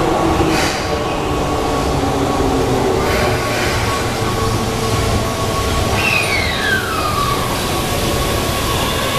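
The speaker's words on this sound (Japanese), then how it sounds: "淀屋橋行きが7両で到着します。" A Keihan Railway 7000 series commuter train pulls into a station, a loud, continuous rumble of wheels and motors with a brief high squeal of wheels sliding downward midway.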